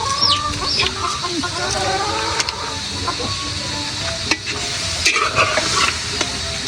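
Chicken for tinola sautés in a pan over a wood fire outdoors: a steady, close sizzle with scraping stir strokes, a few sharp clicks, and chickens clucking in the background, all continuous with no one speaking.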